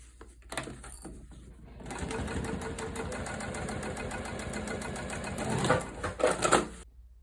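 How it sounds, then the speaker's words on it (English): A sewing machine stitches a tote bag, backstitching and then sewing onward in a steady, close mechanical whir that runs for several seconds with louder bursts near the end, with no talk. "throw some back stitches in there, and continue sewing"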